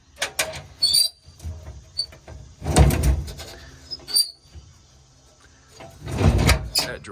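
Metal toolbox drawers on a 2009 International 4300 mechanics crane truck slide open and shut with rattling clunks and faint squeaks, one drawer sticking slightly, three main bursts of activity close by.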